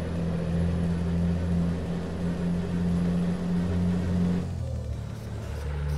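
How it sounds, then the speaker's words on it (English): Truck engine in Euro Truck Simulator 2, a steady low drone with strong harmonic hum running evenly for about four and a half seconds before the tone drops and softens into a quieter idle-like rumble. "This truck does sound good."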